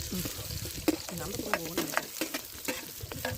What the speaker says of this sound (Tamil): வெங்காயம் பார்த்தீங்கன்னா நல்லா கோல்டு கலரில் வர்ற வரைக்கும் போட்டு பொரிக்கணும்